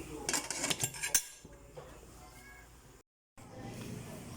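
A metal lid goes onto a cooking pot of okra and tomato with a quick run of clinks and clatters, then a low background hum follows after a brief dropout.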